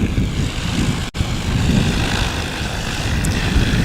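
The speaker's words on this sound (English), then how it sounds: "Dustin Mosier, a local here from Tehachapi, flying the 1947 Cessna 120." A 1947 Cessna 120 light sport airplane flies past at a short takeoff and landing practice event, its propeller engine a loud, continuous buzzing roar with one brief dropout, and no voices.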